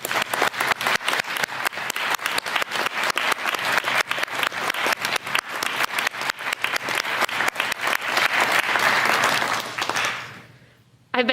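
Sustained, dense applause from a city council inauguration audience in Beverly honoring the outgoing council president, loud and steady for about ten seconds before fading away, with a brief sound returning at the very end.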